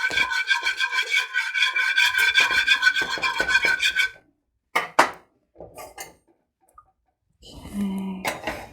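Small whisk beating Victorian custard in a bowl, a rapid rhythmic scraping rattle for about four seconds, then scattered clinks, brief talk, and a short burst of whisking at the end.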